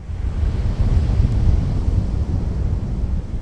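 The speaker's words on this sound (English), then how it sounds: "While it sounds a bit like a bubbling spring, this is actually wastewater being processed at the Sewer Authority Mid-Coastside in Half Moon Bay." Wastewater churns at the Sewer Authority Mid-Coastside sewage treatment plant in Half Moon Bay, a close, steady, bubbling rush with a heavy low rumble and no pauses.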